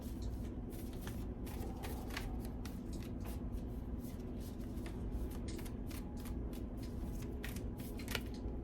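Tarot cards are shuffled by hand in quick, repeated crisp riffles and slides, the papery flutters coming close and clear in an uneven rhythm over a low background hum.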